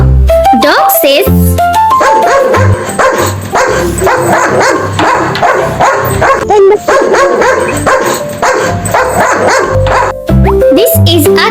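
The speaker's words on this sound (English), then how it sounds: "Dog says" A dog barks repeatedly over loud, busy background music, the barks coming in quick bursts close to the listener.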